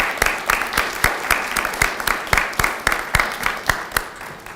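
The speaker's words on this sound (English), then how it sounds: "Round of applause for all of you." A small group claps in a fairly rhythmic pattern at a university undergraduate scholars forum, individual hand claps clearly audible, moderately close.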